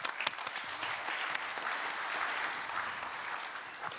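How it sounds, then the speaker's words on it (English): Applause from a conference audience at a raw materials summit, even and sustained clapping from many hands, moderately quiet and distant, with no talking over it. "Can we give him a big round of applause,"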